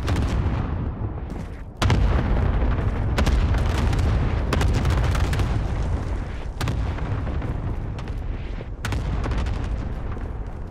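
Frag grenade blast and heavy combat noise in a first-person shooter video game, a loud sustained roar of booms and gunfire with sharp bursts near 2 and 9 seconds, dense and close throughout.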